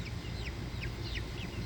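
Chickens cluck in short rising calls, moderately near, over a steady background rumble in a garden coop.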